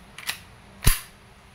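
An Umarex Glock 17 Gen 5 pellet pistol fires with a faint click followed by one sharp, loud crack, a single near and isolated shot in quiet surroundings.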